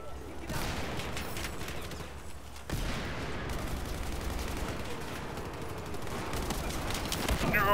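Sustained automatic gunfire in Battlefield 4, close and loud, a continuous rapid crackle of shots with low booms underneath, pausing briefly before resuming and intensifying toward the end.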